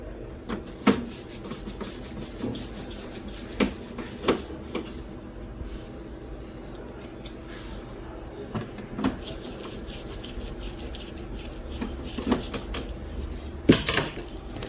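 Small metal clinks and taps from bolts being screwed back into the rear of a Canon G2010 printer after an ink absorber replacement, scattered irregular knocks and scrapes close by over a low steady hum.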